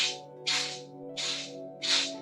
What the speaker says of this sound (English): Your breathing is gonna sound like this.